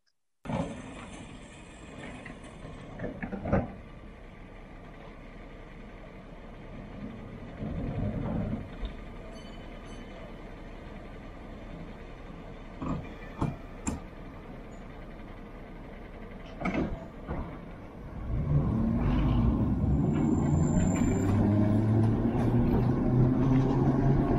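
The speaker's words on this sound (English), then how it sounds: "remember that type of noise every time trains came in and out of tube stations" An old London tube train pulls into a station and away again, a sustained rumble with scattered clatters and door-like knocks, then a louder rising whine of motors building toward the end.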